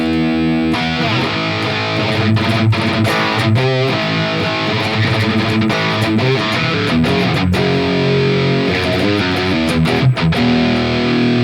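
Heavily distorted electric guitar through an amp simulator with a Supreme Drive pedal plugin plays chunky riffs and sustained chords, loud and saturated throughout, with no voice.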